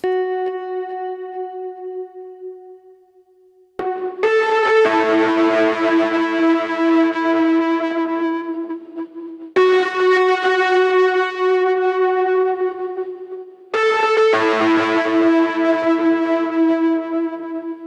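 Sustained synth chords bloom and wash out in a long, lush reverb tail from a reverb plugin, three swelling phrases each ringing and decaying into a shimmering, effected ambience.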